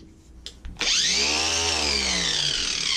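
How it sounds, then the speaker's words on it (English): Battery-powered angle grinder fitted with a wire brush, cleaning a steel gas bottle being made into a barbecue, spins up after a few handling knocks and then runs loud and steady at close range with a high whining rasp. "I put it on the battery powered grinder"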